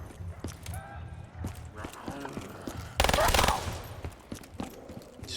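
Gunfire shooting zombies in Black Ops 3 breaks out in sharp, irregular shots and then a loud dense burst partway through, with a voice talking over the game sounds in between.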